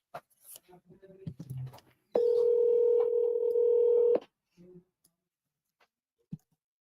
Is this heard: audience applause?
no